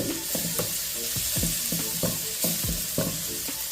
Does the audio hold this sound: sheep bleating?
no